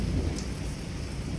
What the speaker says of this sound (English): As you can see now, it's raining, so I can't climb.